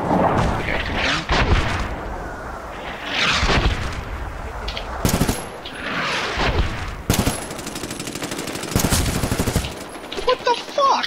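Gunfire in the Medal of Honor video game, with repeated bursts of rapid shots and heavier booming reports spread across the clip, interleaved with a player's talk.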